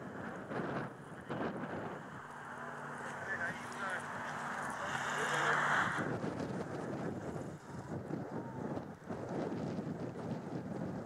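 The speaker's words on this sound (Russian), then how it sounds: "Наверное, будет шумно из-за ветра." Wind rushing across a microphone at an overlook above Lake Tahoe, a steady low roar with gusting swells, heard under someone speaking nearby for much of the stretch.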